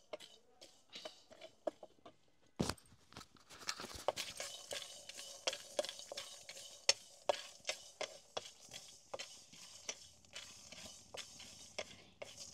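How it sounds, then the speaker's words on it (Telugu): Peanuts dry-roasting in a pan for dry fruit laddu, stirred continuously with a steady run of close, scraping and rattling clicks as the nuts tumble against the metal. "పల్లీలు కొంచెం డ్రై రోస్ట్ చేసుకోవాలి."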